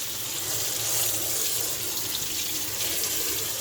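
Running tap water pours steadily into a sink as a Cricut cutting mat is rinsed beneath it, a loud continuous hiss with slight splashing variation and no voices.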